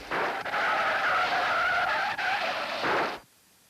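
A car on ordinary tires skids across wet, slick pavement in a long, loud tire squeal that lasts about three seconds and then cuts off abruptly.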